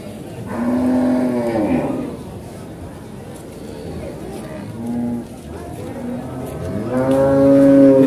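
Cattle at a busy livestock market in Wirosari, Grobogan, give several loud, drawn-out moos close by, with quieter lows between them and people talking in the background.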